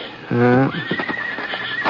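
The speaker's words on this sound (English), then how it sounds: "There were only 3 or 4 horses out in front, a couple of buggies." Horse whinny rising loud and close in a strong stacked cry, followed by a few soft hoof clip-clops under low background noise, near a schoolhouse in a small western town.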